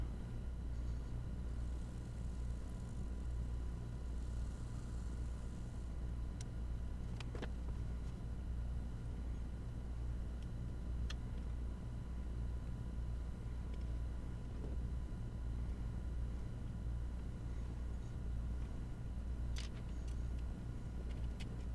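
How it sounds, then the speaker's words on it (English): An electric motor on a National Electric watch cleaning machine runs with a steady low hum and rumble, constant throughout, with a few faint clicks and no voices. "let's see, will this motor work?"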